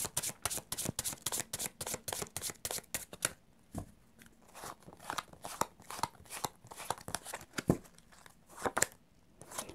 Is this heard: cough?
no